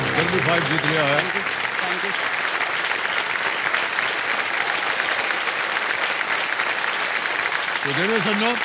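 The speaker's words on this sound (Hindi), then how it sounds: "जोरदार तालियां बज जाए" Loud, sustained applause from a studio audience on the KBC game show set, filling the whole stretch, with a voice speaking over it at the start and again near the end.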